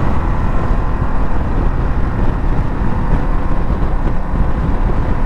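A Ducati Desert X ridden on tarmac gives a steady, loud drone of engine and road noise mixed with constant rushing wind buffeting the microphone.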